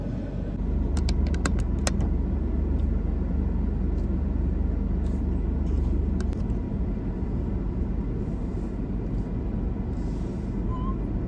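Steady low engine rumble of a car moving slowly through detour traffic on a drive home, continuous and fairly loud, with a few faint metallic jingles early on and no talking.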